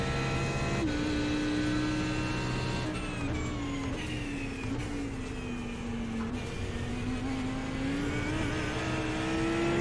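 Audi GT3 race car at Oulton Park, engine note loud and steady, pitch dipping and rising as it shifts into fourth gear and pulls on, alone without talk.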